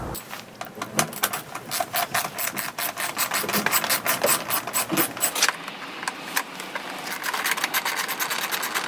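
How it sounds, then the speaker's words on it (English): Small screws on the airbox of an Audi B7 RS4 being loosened by hand, a steady run of close, light metallic rasping and ratcheting clicks with no talking. "Next you want to remove the two airbox screws."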